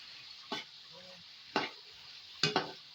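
Tofu stir-fried with chili in a hot pan, with three bursts of sizzling as the food is tossed and stirred, spaced apart over a quieter background.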